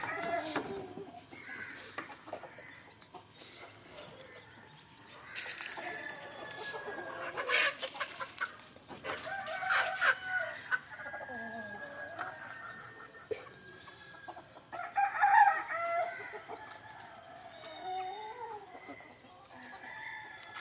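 Hens cluck in scattered bursts with a rooster crowing now and then, fairly close, in a busy farmyard with no talking.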